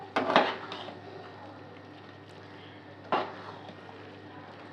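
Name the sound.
stirring chicken tarka in a pan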